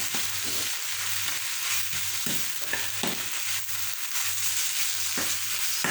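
Ackee and saltfish fry in a pan, giving a continuous loud close sizzle with occasional soft stirring taps and scrapes and no voices.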